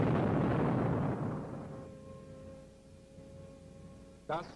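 Wartime explosion in archival documentary footage: a heavy, loud blast that rumbles and slowly decays over a few seconds, followed by a quieter lingering tone and a brief sharp burst at the end.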